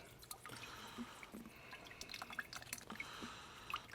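Brine dripping from a holiday cut of meat as it drains, a faint scatter of irregular drips and small splashes close by, with no talking.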